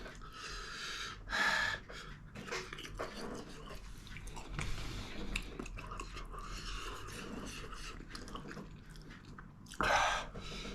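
Someone chews a mouthful of extra-spicy 2X Korean hot noodles, the soft wet crunching and biting close to the mic, broken by a couple of sharp breathy gasps.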